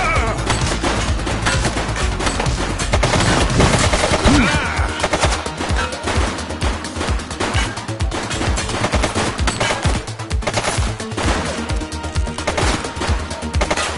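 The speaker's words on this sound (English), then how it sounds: "Shots fired!" Rapid gunfire from police officers in the PS5 game The Precinct, dense bursts of automatic shots crackling continuously and loudly over a busy mix of game noise and music.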